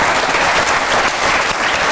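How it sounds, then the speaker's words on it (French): A television studio audience bursts into loud, dense applause, a continuous roar of clapping with no other sound. "On applaudit et on remercie Clémence"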